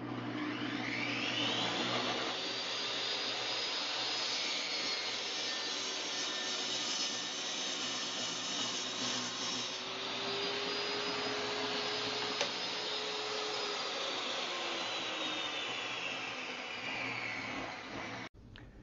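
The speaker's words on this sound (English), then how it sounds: "Now I'm just cutting the blanks for the numbers." A power saw runs through a board, ripping wood stock for house-number blanks in one sustained, loud whining cut that dips slightly in pitch under load for nearly the whole stretch, with no voices.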